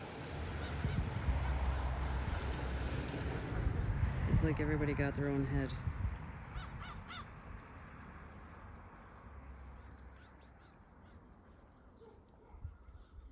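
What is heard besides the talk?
gulls calling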